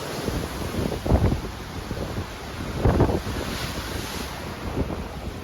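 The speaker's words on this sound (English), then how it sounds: "feel the fresh breeze on your face, and can enjoy the hypnotizing waves." Ocean waves wash and break in slow surges beside a cruise ship, over a constant hiss of wind buffeting the microphone, with no voices.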